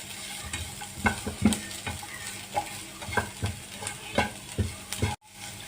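Vegetables frying in a pan with salt, garlic and ginger are stirred, giving sharp scraping strokes at an uneven rhythm over a soft continuous sizzle, close and moderately loud.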